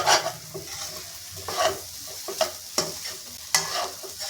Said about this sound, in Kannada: ಈಗ ಕಾಯಿ ಹಾಕ್ತಾಯಿದ್ದೀನಿ. ಇದೊಂದು ಸ್ವಲ್ಪ ಒಂದು ಸುತ್ತು ಬೇಯಬೇಕಿದೆ ಎಣ್ಣೆಲಿ.